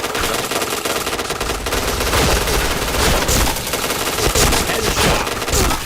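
Rapid automatic gunfire from the shooter game PointBlank rattles loud and continuous, with dense overlapping bursts and no pauses.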